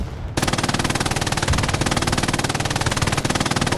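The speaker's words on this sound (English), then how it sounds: "Calomas, I guess, is on the MG here, trying to mount it." Mounted machine gun in the console shooter Hell Let Loose, a near, loud, unbroken stream of rapid rattling shots after a short quiet lead-in, keeping a fast even rhythm throughout.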